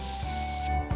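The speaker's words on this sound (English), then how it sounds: "But not before giving herself one final spray, just for good measure." A single sustained hiss of bug spray from an aerosol can in the game Summer Pockets, close and fairly quiet, running nearly a second before cutting off with a faint click.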